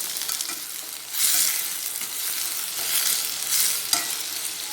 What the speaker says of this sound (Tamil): தக்காளி நல்லா மசிஞ்சு வதங்கணும்.